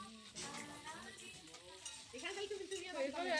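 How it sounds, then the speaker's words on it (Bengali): Potatoes being stirred in a frying pan for a vegetarian potato and cauliflower dish, a soft scraping and sizzling that grows louder toward the end, with a voice speaking over it. "আমি সমস্ত আলু দিয়ে ভালোভাবে নাড়িয়ে নিচ্ছি।"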